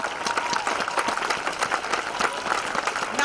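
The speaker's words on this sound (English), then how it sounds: "Let's just give them another round of applause." Crowd applause at an outdoor protest rally for Daniel Prude, with dense, continuous clapping from many people, loud and close throughout.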